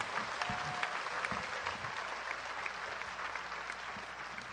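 A church congregation at a healing service applauds in a steady, sustained wash of clapping that sounds somewhat distant and fills the whole stretch without pause.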